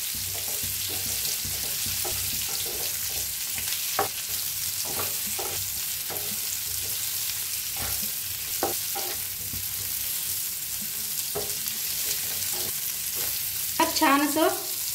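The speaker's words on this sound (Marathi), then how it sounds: "कारले सोडून घेऊया तेलात." Pieces of bitter gourd fry in oil with a constant sizzle, and a spatula scrapes and knocks against the pan at irregular intervals. The stirring grows busier near the end.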